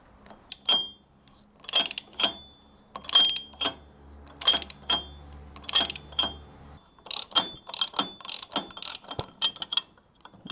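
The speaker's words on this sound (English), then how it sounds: "I've got the puller set up here. That's locking off so it won't spin. And I should be able to just tighten this." A puller is tightened on a 1951 Royal Enfield 500 Twin engine during teardown, giving a series of sharp metallic ratcheting clicks in short bursts, close and distinct, with brief pauses between strokes.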